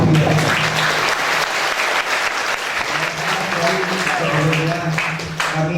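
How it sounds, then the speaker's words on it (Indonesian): Audience at a public lecture on pesantren applauds with loud, continuous clapping from a large crowd. Voices can be heard beneath the applause, along with a low hum. "Tepuk tangan dulu."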